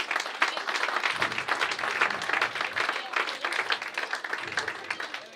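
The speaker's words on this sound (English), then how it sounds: "maybe we can have applause for Henry's Menswear." Crowd at an awards night clapping for a menswear sponsor, many hands in a dense, continuous round of applause at moderate loudness, with faint murmur underneath.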